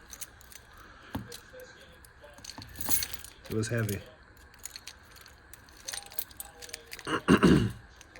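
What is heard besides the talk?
keys jangling on a keychain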